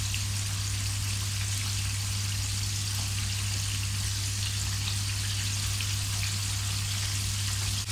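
Al Baik style fried chicken pieces frying in hot oil just after being turned, a steady dense crackle and sizzle running continuously and evenly throughout, close and fairly loud with no talk.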